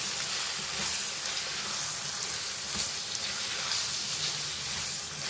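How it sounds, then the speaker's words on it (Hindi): Sliced onion is stirred into minced meat frying in a pan for hara keema, producing a soft, even sizzle that runs continuously throughout without talk. "ये देखिए ऑनियन ऐड कर दिया है और इसको जो है वो मैं कीमे के साथ अच्छे से जो है वो मिक्स कर लूँगी"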